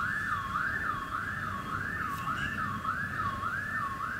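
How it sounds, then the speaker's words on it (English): A facility alarm wails at a decommissioned power plant, a loud, rising-and-falling electronic tone that cycles steadily and repeatedly with no voices over it. "That's the facility's alarms."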